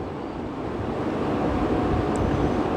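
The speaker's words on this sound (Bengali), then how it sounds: "কিছুক্ষণ পরই আবার ঠান্ডা ঠান্ডা হাওয়াও দিচ্ছে" Cool wind blows steadily on a cloudy afternoon, a broad, even rush of air that buffets the microphone and holds at a constant level throughout, with no voices.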